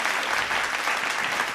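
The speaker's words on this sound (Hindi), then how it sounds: "तालियां कमजोर हैं दोस्त" Audience applause at a Hindi kavi sammelan poetry recital, a dense, continuous clapping from a crowd that stays steady for the whole moment, with no voices over it.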